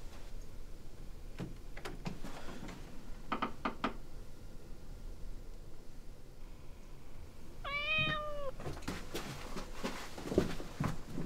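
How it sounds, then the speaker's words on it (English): A cat gives a single clear rising meow partway through, set among scattered knocks and thumps in an otherwise quiet indoor room. "It's only Piper, Mr. Bowles, my cat."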